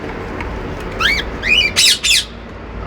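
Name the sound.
parakeets or budgies squawking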